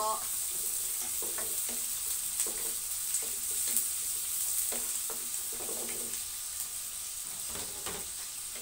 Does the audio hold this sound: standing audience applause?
no